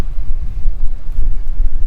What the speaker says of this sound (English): It's a very hot and windy day.